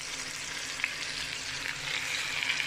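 Shrimp sautéing in a hot pan, a dense close sizzle with a few light stirring clicks, steady throughout.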